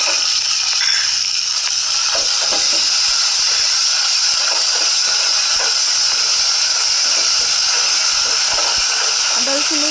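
Ginger garlic paste dropped into hot oil while cooking a koi fish curry, a loud, constant close hiss and sizzle running the whole time with small crackles inside it.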